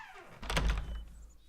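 A single heavy door thunk in the video game The Song of Seven, a close, low wooden thud as the door swings open, followed by a short fading rattle with no talking.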